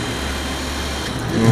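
A 12-volt DC geared motor drives a PCB etching tank, giving a steady, close mechanical hum that swells slightly at the end.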